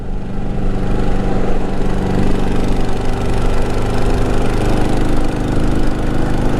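A motorcycle engine revs after a carburetor adjustment, a loud, close, rough and steady running note holding for several seconds with no one talking.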